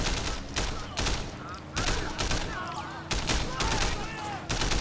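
Turret gunfire in the Sleeping Dogs Definitive Edition video game, Year of the Snake DLC, crackles in repeated rapid bursts separated by short gaps, with other game sounds mixed underneath.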